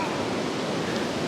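River rapids rush loudly and steadily, a dense, continuous roar of water filling the whole clip with no pauses.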